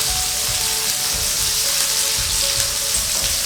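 Sliced onion and green chili sautéing in a pan for an anchovy dry fish curry, a loud, dense, continuous sizzle with faint stirring scrapes underneath.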